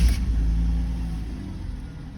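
A Jaguar X300 saloon with 37,000 miles starts up, its engine catching with a brief burst at the start and then settling into a steady, close, low rumbling idle with no talking.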